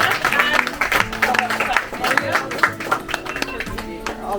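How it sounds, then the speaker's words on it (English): Audience applause at a house tour launch event in Berbice, uneven clapping from a modest crowd mixed with murmuring voices and some louder tonal sounds, moderately loud and close. "let's just give all the performance one more round of applause"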